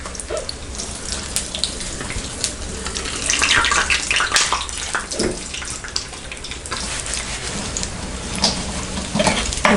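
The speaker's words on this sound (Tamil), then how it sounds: "நம்ம எக்கை வந்து டிப் பண்ணிவிட்டு ஆயிலுக்குள்ளே போட்டுட்டோம்." Egg bonda, boiled eggs dipped in batter, fry in hot oil. A steady, close bubbling sizzle runs for about ten seconds with sharper spits and crackles and no voices.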